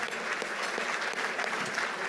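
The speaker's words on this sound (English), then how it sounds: "beautiful round of applause for our guests" A gala audience applauds musical guests, dense sustained clapping from many hands filling the room evenly and continuing throughout the short stretch.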